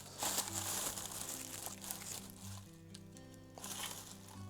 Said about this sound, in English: Let's unwrap it, like past the parcel.